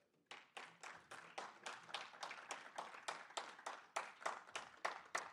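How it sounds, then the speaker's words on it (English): A small audience at a student club's general meeting claps for sponsors, giving a fairly quiet, evenly paced series of separate hand claps that keeps a steady rhythm for several seconds. "Clap up for the sponsors, please."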